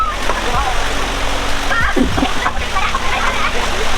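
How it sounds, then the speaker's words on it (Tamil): Rushing water at Aare Falls near Nagalapuram gives a steady broadband wash with a few splashes, while voices talk nearby over it. "இதுதான் அந்த ஃபால்ஸ்."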